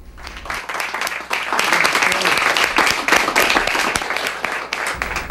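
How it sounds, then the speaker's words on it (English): A round of applause from friends and colleagues marks a university president's last day on the job before retirement after 15 years, a crowd clapping steadily and fairly close, swelling then easing, with some voices mixed in. "Frohnmeyer was met with a round of applause from friends and colleagues"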